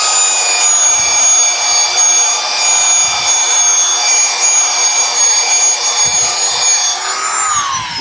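Power sander running steadily on a timber beam to take off pencil marks, a continuous whining drone with a high tonal hum that holds for the whole stretch and shifts pitch near the end, with no talk.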